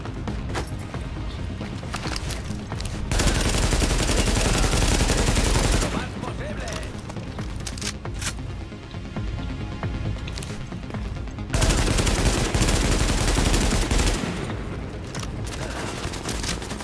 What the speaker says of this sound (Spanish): Ya ha cargado su ametralladora el cabrón